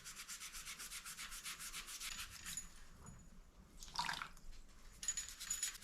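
A Mr. Clean Magic Eraser rubs over fishing rod cork in fast, rhythmic back-and-forth scrubbing strokes, soft and close, with wetter swishes toward the end.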